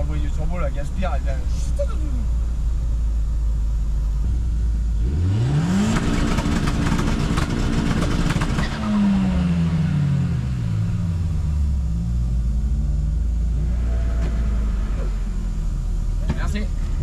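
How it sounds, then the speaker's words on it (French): A Volkswagen Golf 2 turbo engine idles with a low rumble, then revs hard in a rising surge, and the revs sweep up and down again over several seconds, close and loud, with people talking nearby. "T'entends le bruit du turbo, la gaspire"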